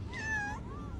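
A pet cat meows indoors, one drawn-out close meow followed by a softer, shorter second call, with faint background noise.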